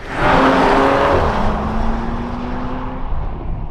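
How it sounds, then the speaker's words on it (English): A 2025 Audi SQ5 V6 SUV engine revs hard and then eases off, its pitch climbing and settling as the loud roar fades gradually. "It's a nice sounding engine."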